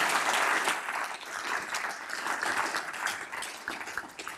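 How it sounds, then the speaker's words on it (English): An audience at a physics and materials science talk breaks into applause for the speaker, a full burst of many hands clapping that starts strong and slowly tapers. "everyone give a round of applause for Dr."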